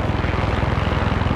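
A helicopter flies in the shooter game Far Cry 6, producing a loud, continuous rotor and engine drone with a steady pulsing beat, heard alone.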